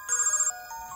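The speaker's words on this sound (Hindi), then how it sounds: "फोन बज रहा है, उसी का होगा।" An electronic phone ringtone chimes briefly, a bright repeating melodic trill that rings clearly and then drops to a softer sustained tone.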